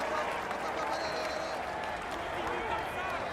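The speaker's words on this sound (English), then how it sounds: "Come on, let's give him a cheer." A crowd at a cycling individual time trial cheers and applauds a rider, a steady wash of clapping and voices at moderate distance, with someone speaking over it.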